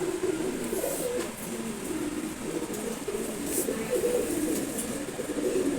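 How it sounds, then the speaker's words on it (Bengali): A mother pigeon with her month-old chick gives low, soft cooing in a steady, murmuring rhythm close by, over a constant background hiss, with no talking. "এটা হচ্ছে মাদি কবুতর, ওর মা।"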